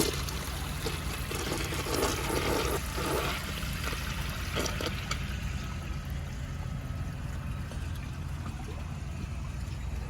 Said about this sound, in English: I'ma flush it and see if it unblocks itself.